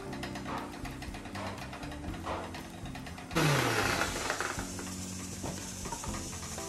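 An electric kitchen mixer grinds garam masala spices with fennel seeds and star anise, starting abruptly partway through with a loud, steady motor whir and rattle after quieter kitchen sounds.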